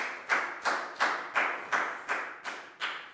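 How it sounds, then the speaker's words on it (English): A Year 4 maths class claps for a pupil in about eight slow, evenly spaced claps. Each clap is crisp and close, and the room is otherwise quiet. "High five and a big round of applause for Annette, please, guys"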